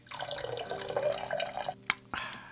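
Water pours and splashes over Jabra Elite 3 earbuds during a water test, a steady close trickle with a couple of sharp drip or splash accents near the end.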